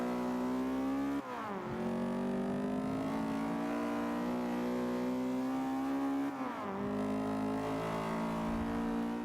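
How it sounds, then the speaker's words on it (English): A damaged race car engine in Forza 5 drones loudly and steadily at high revs, dipping sharply twice as gears shift before climbing again, with no voices. "Engine doesn't sound great"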